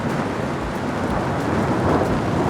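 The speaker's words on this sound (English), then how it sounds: "Should we find protection from the rain for a moment" Steady rain and rumbling thunder fill an outdoor scene during a wet Royal Enfield Classic 350 motorcycle ride, a dense continuous wash of rainfall with low thunder underneath, loud and close, no voices.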